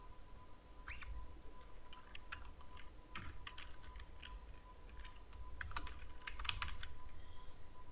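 Keystrokes on a computer keyboard as an item list is typed into a fillable PDF form in Adobe Acrobat Pro DC, a steady run of close, light clicks over a faint hum.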